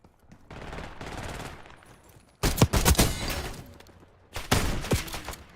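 Shotgun blasts in Black Ops 6 burst out loud and close in two separate volleys, each a sharp crack trailing into rumbling echo, after a quieter stretch of game ambience.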